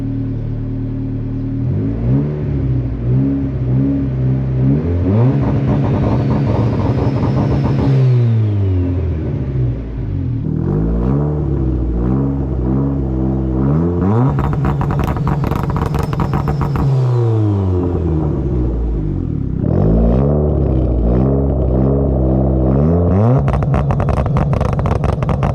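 A car engine revs hard again and again with rolling antilag on a fuller fuel setting, rising and falling in repeated loud, close sweeps with crackling bursts as the throttle comes off and on, no voices.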